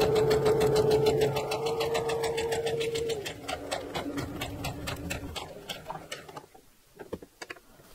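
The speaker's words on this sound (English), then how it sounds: "So I'm gonna go ahead and just create the basting stitches 3/8 and 7/8 away" A sewing machine runs steadily, stitching long basting rows 3/8 and 7/8 inch from a fabric edge for gathering. The close, continuous needle clatter and motor whine slow and taper off into a few isolated ticks near the end.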